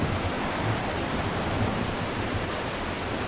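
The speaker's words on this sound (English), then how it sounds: "Black ominous clouds completely block the sun. A storm begins to rage." Steady, dense rain from a video game storm in Neverwinter Nights 2 roars without a break, a broad wash of storm noise with a low rumble underneath and no voices.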